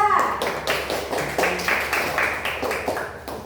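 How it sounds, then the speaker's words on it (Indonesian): A classroom group claps for a student team in a series of distinct, rhythmic hand claps, fairly close and moderately loud, repeating steadily over a few seconds. "berikan tepuk tangan untuk kelompok 2"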